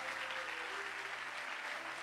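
Church congregation applauding together during a Spanish-language sermon, a dense, steady wash of clapping hands filling the room throughout with no speech over it.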